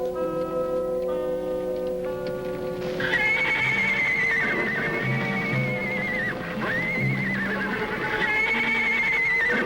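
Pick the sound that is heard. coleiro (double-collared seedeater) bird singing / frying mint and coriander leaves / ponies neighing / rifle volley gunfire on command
ponies neighing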